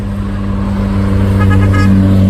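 A bus drives past on a steep hill road, its engine a loud, steady low drone with a brief horn-like tonal note near the end, close by throughout.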